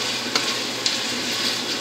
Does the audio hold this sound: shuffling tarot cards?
no